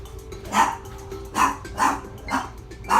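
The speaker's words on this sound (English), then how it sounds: "Dog is barking at the door." A dog barks at a door in a hallway in single sharp barks, about five spaced through the stretch, fairly close, over a low steady background hum.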